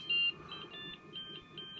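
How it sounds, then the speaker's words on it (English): A Monoprice Voxel 3D printer emits a series of short electronic boot-up beeps in a steady, regular rhythm, fairly quiet, over a faint constant hum. "when it's almost ready, it makes a beeping noise, like a video game, an old video game"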